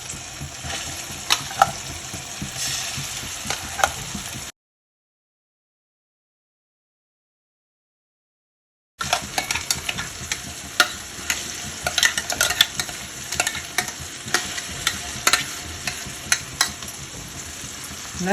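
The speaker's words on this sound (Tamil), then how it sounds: "அந்த முருங்கைக்காய் சதையை அதில் போட்டுக்கலாம். போட்டு நல்லா கைவிடாமல் கிளறுங்க." Drumstick pulp being stirred as it fries in a pan for thokku, with steady scraping and a soft sizzle running throughout, broken by a short silent gap in the middle.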